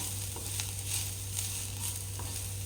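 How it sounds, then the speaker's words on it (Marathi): Paneer momo stuffing with coriander sautés in a pan, giving a soft, even sizzle with a few faint stirring taps, quiet and steady throughout. "इथे घालायचा आहे आणि कोथिंबीर घालून परत एकदा परतून घेऊया."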